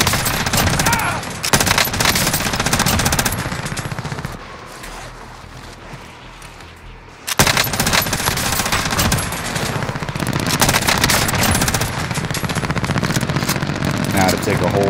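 Automatic gunfire from an MG82 machine gun in Call of Duty Warzone, loud, dense bursts that fill most of the stretch, with a brief quieter pause partway through and game sounds underneath.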